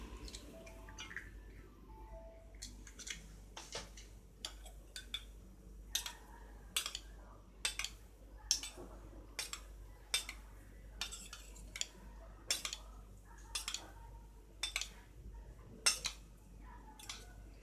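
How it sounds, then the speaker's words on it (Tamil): Eggs cracked one at a time into a bowl and beaten for a Tamil-style egg tomato curry, with quiet clinks of a utensil against the bowl repeating in a steady rhythm, close and soft with no talking. "இதே மாதிரி நம்ம எத்தனை முட்டை ஊற்ற போகிறோமோ ஒன்று ஒன்றா உடச்சி கலக்கி ஊற்றணும்"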